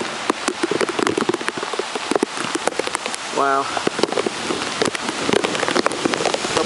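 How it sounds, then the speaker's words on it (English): Heavy rain pouring down in sheets during Tropical Storm Irene upstate, a dense continuous patter and hiss of drops close by, with a brief exclamation from a person partway through. "Look at this rain coming down."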